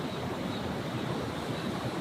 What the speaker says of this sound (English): I saw some waves coming out of it